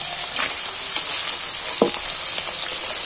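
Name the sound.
frying chicken skin and onions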